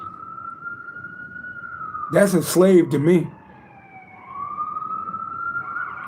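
Emergency vehicle siren wailing steadily at a distance, briefly masked by someone speaking over it before the tone rises again.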